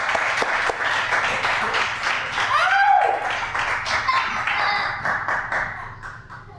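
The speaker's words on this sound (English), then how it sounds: "Let's give our Bill a great round of applause there" An audience at a poetry reading in a branch library applauds, a dense burst of clapping that swells, holds for several seconds and then thins out, with a voice briefly audible over it.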